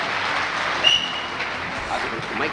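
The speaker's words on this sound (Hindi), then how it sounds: "एक जोरदार ताली मिसेज वंदना जी के लिए" An audience at a Safe Shop event claps loudly and steadily for someone speaker, a dense, sustained wash of applause that fills the hall.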